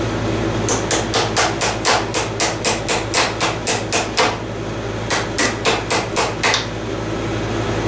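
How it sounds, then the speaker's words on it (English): A hammer taps grain grinder parts back together in sharp, evenly spaced metallic blows, a quick run of about a dozen hits, a short pause, then several more, loud and close. "Not exactly the right hammering tool, but I do have one."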